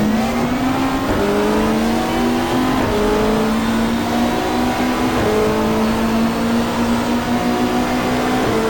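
Super touring race car in a GTR2 sim of the 1995 Australian championship at Symmons Plains, engine droning loud and steady with stepped pitch drops as it downshifts under braking, no voices over it.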